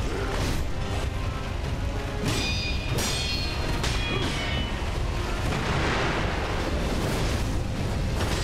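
Fireworks explode in the video game Sekiro, a loud and dense barrage of booms and crackling bursts that carries on without a break.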